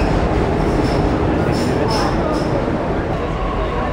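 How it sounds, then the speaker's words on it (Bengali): A metro train rumbles steadily in an enclosed station as it arrives at the platform, with brief high squeals from the wheels as it comes in. "এই যে আমাদের ট্রেন চলে এসছে।"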